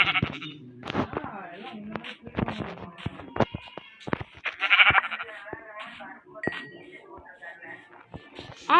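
Sheep bleat repeatedly in the video game Minecraft, with short game-sound clinks and footsteps and a person talking excitedly over the bleats.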